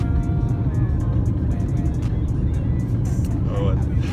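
Inside a taxi on the move, a steady low road rumble and engine drone continue throughout beneath someone talking.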